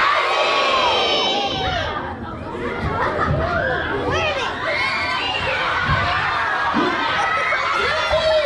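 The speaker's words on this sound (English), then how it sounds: "on the count of three, if we all say Nutzy, maybe he'll appear for us?" A crowd of children in a room shouts together at a reading challenge event, loud and continuous cheering and yelling with scattered individual voices for several seconds.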